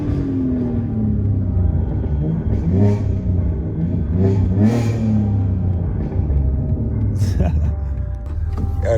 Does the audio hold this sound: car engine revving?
yes